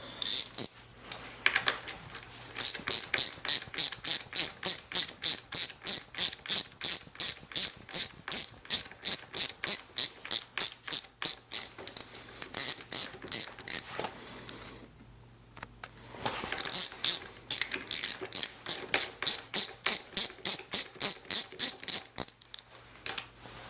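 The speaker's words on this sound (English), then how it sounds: "So usually break the nut loose, take the nut off." A ratchet works the nut loose on a 2022 Yamaha YZ450F clutch or brake lever, giving long runs of fast, even, crisp clicks close by. The clicking pauses briefly near the middle, then picks up again, with no talking.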